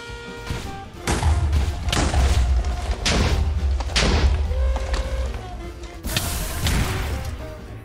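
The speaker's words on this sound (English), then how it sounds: "now I will destroy the last one with a grenade launcher" Grenade launcher explosions in a video game: a rapid series of loud, booming blasts with deep thuds, fired in quick pairs and repeated several times over a steady low rumble.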